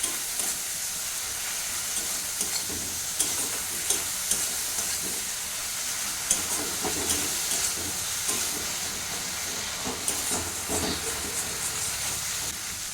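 A masala paste with cumin powder is stir-fried in oil in a pan for a Bengali loitta fish curry, giving a continuous hissing sizzle with intermittent scraping stirs, steady and close, with no talk.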